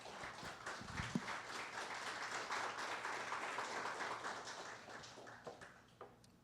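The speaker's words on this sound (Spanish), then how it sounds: "Dele un grande aplauso al Señor por eso." A church congregation claps together at a Spanish-language service, a dense, fairly distant round of applause that swells and holds for several seconds before thinning into scattered claps.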